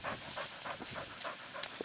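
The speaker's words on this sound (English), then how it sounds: "There's just a dog out the side there" A herding dog working steers pants rapidly and rhythmically close by, quick regular breaths repeating over a constant windy or engine-like hiss.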